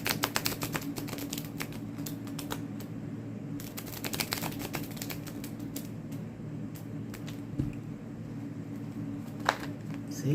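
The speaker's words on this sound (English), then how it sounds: "That's what I'm trying to give it a really good shuffle here" Rapid, dense rustling and flicking of tarot cards being shuffled, sticking together at times, continuous riffling clicks close by with a low background hum throughout.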